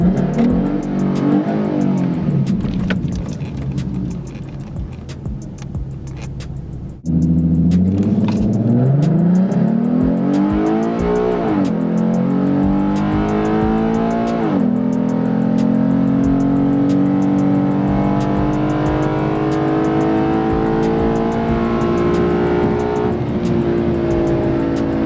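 A bolt-on V6 Mustang and an Infiniti Q40 launch hard at a drag strip, loud engines revving up through rising gear pulls and shifts, a brief lull then a sustained roaring run with no talking.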